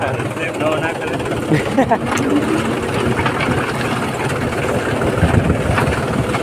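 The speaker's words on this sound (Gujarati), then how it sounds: "આ ટ્રેક્ટર બહુ જૂનું છે સેફટી કહી દઈએ આ તો બહુ એન્ટિક ચીજ છે ટ્રેક્ટર" An old antique tractor engine runs at a steady idle-like chug, a continuous mid-level mechanical drone with irregular knocks, while voices talk over it.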